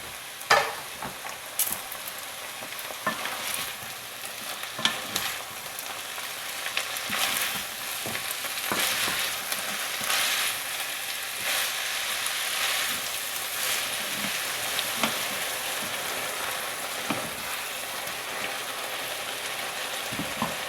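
Egg foo yung stir-fried over high heat in a pan gives a continuous close sizzle, broken by frequent scraping and clacking strokes of the utensil, with no talking.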